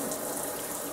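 Water from a Dishmaster M76 faucet is diverted to the spray wand, giving a steady, loud, close hiss of running water with no break.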